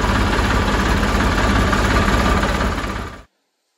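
A tractor engine idles loudly and steadily while charging a battery, a dense low-pitched throbbing hum that runs for about three seconds before cutting off abruptly to silence.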